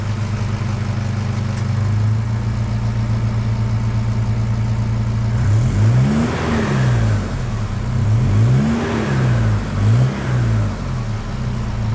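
A car with its stock 3-inch exhaust idles steadily, then is revved several times in rising and falling bursts, loud and close, with no talk over it.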